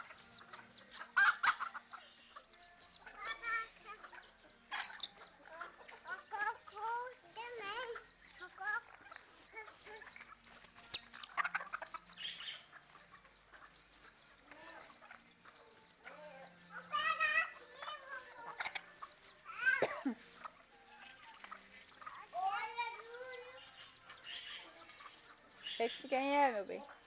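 Chickens cluck and squawk repeatedly, close by, in irregular bursts, while people talk intermittently in the background.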